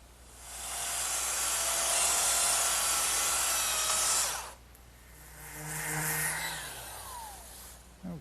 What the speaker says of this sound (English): so I'll just dress that up with my sander